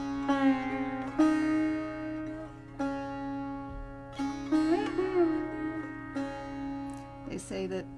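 Sitar playing recurring signature phrases of Raga Gaudsarang, with sustained plucked notes, sliding bends and a steady drone beneath, moderately loud and close, in several separate melodic gestures.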